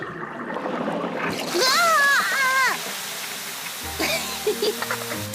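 A cartoon garden hose sprays and splashes water in bursts, with a child's and adult's voices and a sliding musical whoop over the splatter, fairly loud and close.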